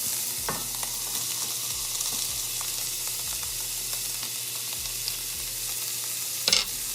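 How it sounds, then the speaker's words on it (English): Ground beef browns over medium-high heat with onions and garlic, producing a constant frying sizzle with intermittent stirring knocks and a sharper clatter near the end, and no one speaking. "we want to cook the ground beef on medium-high heat"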